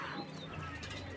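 Pigeons in a loft coo softly in a low, faint murmur during a short moment with no talking.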